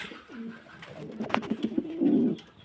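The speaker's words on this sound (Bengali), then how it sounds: "কবুতর" A pigeon coos nearby, a soft low throaty call with a brief flutter or rustle in the middle.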